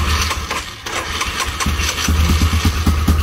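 A Yamaha Grizzly 660 4x4 ATV engine turns over and catches, then settles into a steady low, lumpy idle, close and fairly loud with no talking.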